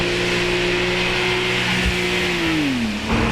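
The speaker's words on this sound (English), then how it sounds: "you can still hear the rumble of the V8 coming on the background" A Porsche Panamera Turbo V8's steady low rumble, holding a constant tone, then dropping in pitch as it eases off, heard from inside the car with no talking.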